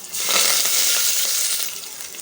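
Chopped green chili, ginger and curry leaves hit hot oil in a pan while a wheat rava vegetable dish is being cooked, giving a bright, continuous sizzle that swells, then eases slightly toward the end.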